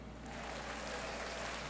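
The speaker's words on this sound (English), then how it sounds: "She gets the whole applause." A live radio studio audience gives a short burst of applause, faint and steady, for an arriving guest.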